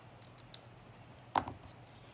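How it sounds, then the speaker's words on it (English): Scissors cut a ribbon end into a flag shape with a couple of faint, quick snips close by in a quiet room; the second snip is sharper and louder than the first. "I'm going to do my little flagged end that I always do, where you cut into the center and then cut in from the edges"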